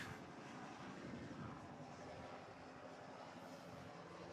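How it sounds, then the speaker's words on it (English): Sheriff's helicopter hovering overhead at an outdoor event, a continuous distant rotor and engine rumble with a broad wash of noise that holds steady throughout, faint and without nearby voices. "this is his helicopter. I think you can see it hovering. We can hear it."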